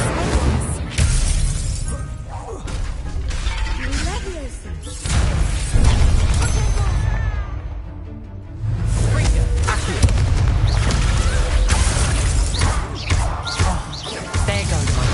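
Fire spell being cast in Hogwarts Legacy on PS5, a burst of magical flame amid dense, loud game combat effects with crashes and booms throughout, a brief lull in the middle, and voices talking over it.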